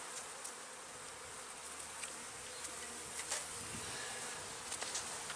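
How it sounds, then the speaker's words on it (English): Honeybees from a newly installed package hum and buzz steadily around a hive on a cold day, a dense continuous drone with a few individual bees zipping close past. "These bees, they'll find their way in here."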